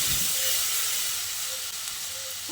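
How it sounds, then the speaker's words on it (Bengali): Warm water poured from a bowl into a pan of potatoes fried with spices sets off a loud, steady steam hiss and sizzle that holds evenly throughout. "এবার আমি এর মধ্যে 1 বাটি মতো উষ্ণ গরম জল দিয়ে দিচ্ছি।"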